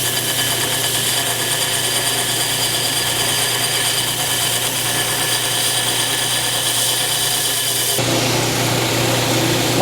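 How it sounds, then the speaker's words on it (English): A power grinder grinds notches off the end of a door handle for a 1949 Chevrolet, a loud continuous abrasive whine held close for about ten seconds, with a slight change in tone near the end. "So let's go grind these notches off."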